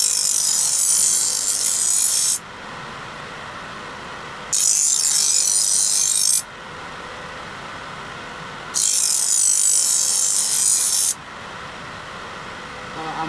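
A chipped Bohler N695 steel machete is stroked over sandpaper in three long, steady passes of bright, close scraping, with quieter gaps between them and a voice talking underneath.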